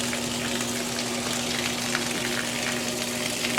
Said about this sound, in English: It's draining.